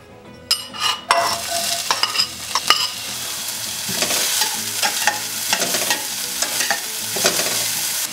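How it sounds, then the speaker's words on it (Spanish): Garlic and onion frying in vegetable oil in a hot pan, a steady close sizzle with repeated scraping stirs and sharp utensil clicks throughout, moderately loud with no talking. "En un sartén caliente colocaré un poco de aceite vegetal. Y voy a poner aquí mi ajo y cebolla."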